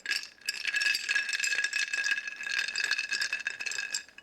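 Ice cubes rattling and clinking in an iced coffee cup, a continuous close bright jangle as the cup is shaken, faint and alone.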